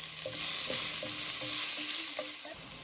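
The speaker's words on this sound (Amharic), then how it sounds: "አሁን ደግሞ በዛው ድስት ላይ ሽንኩርትና ነጭ ሽንኩርት ነው የምንጨምረው።" Onion and garlic sizzle softly in a pot while a utensil stirs them, with a quick run of scraping strokes over the faint frying hiss.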